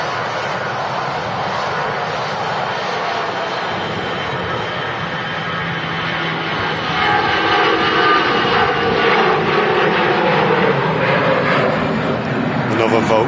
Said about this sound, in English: Finnair about to blast off